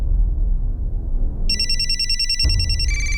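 A telephone rings loudly in a continuous electronic tone that changes pitch partway through, over a steady low background rumble, with a brief thump near the change and no speech.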